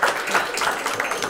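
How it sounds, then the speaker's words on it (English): Audience applause at a third-grade spelling bee, steady dense clapping from a crowd, moderately loud and continuous for a second or so. "let's have a big round of applause for Aiden Gomes"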